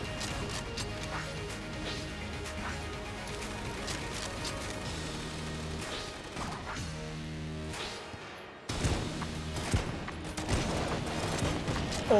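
Heavy gunfire from a boss's big gun in Enter the Gungeon, a dense continuous barrage of rapid shots and crashing explosions that runs steadily and swells louder toward the end, with no talk over it.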